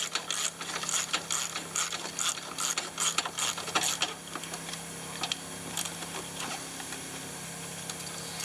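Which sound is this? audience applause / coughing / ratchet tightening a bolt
ratchet tightening a bolt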